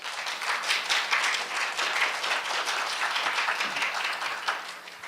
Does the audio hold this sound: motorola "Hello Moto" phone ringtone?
no